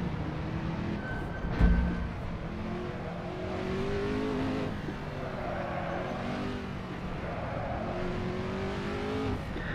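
A Ford GT40 racing engine in Assetto Corsa revs and shifts through gears in steady, droning rising sweeps, with a brief thump early on and no talking.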